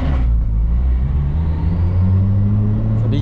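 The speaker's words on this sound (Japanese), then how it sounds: "そう、マフラー音が響く感じ。" Toyota Chaser exhaust under acceleration inside a multi-level parking garage, a deep loud rumbling engine note that climbs steadily in pitch and echoes off the concrete walls, close and continuous.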